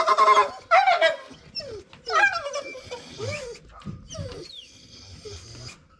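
Pit bull dogs whimper and whine in high, strained cries, loudest in the first half, while someone talks over them and the whines trail off into quieter yelps.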